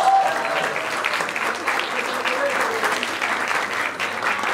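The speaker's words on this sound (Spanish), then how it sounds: "quiero que le demos un fuerte aplauso a Rodrigo Cuevas, el creador de los 80." A comedy roast crowd breaks into loud, sustained applause, a thick, continuous clapping texture with some cheering mixed in, staying strong and even for several seconds.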